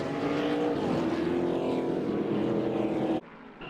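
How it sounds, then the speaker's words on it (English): A NASCAR race car roars past out of control during a crash on the back straightaway, its engine a loud sustained howl that cuts off abruptly, leaving quieter background noise. "A car's out of control."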